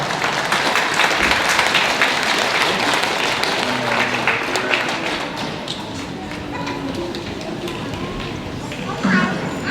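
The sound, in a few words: applause at a graduation ceremony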